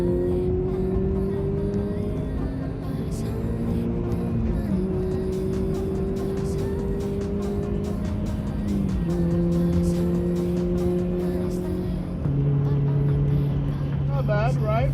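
A Subaru BRZ fitted with an axleback exhaust accelerating up a highway on-ramp, its engine drone rising through the revs in long pulls with gear shifts between, heard from inside the car with music playing underneath.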